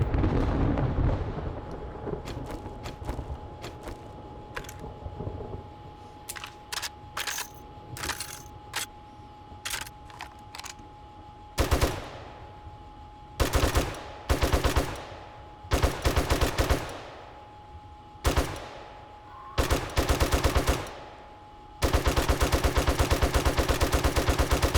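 Bursts of gunfire from the zombie survival game 7 Days to Die, a sparse run of sharp single shots giving way to dense, loud rapid-fire volleys near the end, with no talking.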